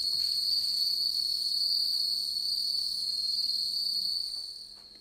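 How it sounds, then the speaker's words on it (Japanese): Farmed bell crickets (suzumushi) in Kamigori, Hyogo, Japan sing a clear, high, continuous ringing trill, steady and fairly close, fading slightly at the end. "涼しげな音色を響かせるスズムシ"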